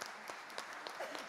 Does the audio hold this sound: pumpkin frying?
no